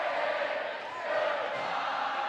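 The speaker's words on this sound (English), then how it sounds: "Shawnee crowd getting loud." Home crowd at a Shawnee boys high school basketball game against Seneca, roaring loudly and steadily during free throws in a gym, a dense continuous wash of cheering and yelling.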